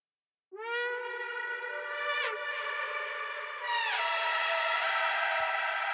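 Synth lead from a remix, a sustained bright buzzy tone with two upward pitch sweeps, washed in reverb, steady and moderately loud, playing alone.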